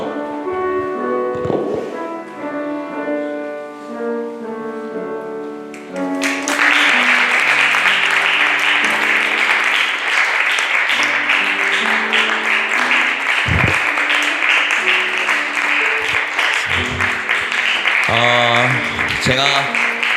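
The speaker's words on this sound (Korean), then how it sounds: "여러분들 기쁨으로 또한 함께 박수해 주시면 감사하겠습니다" Church congregation at a Sunday worship service breaks into loud, sustained applause that swells abruptly and continues steadily, over music playing underneath with some voices mixed in.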